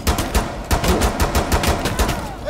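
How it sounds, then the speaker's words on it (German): Close, loud gunfire in the Rainbow Six Siege video game, firing as rapid repeated bursts of sharp shots with brief pauses between them. "Ich hab dir ins Bein geschossen."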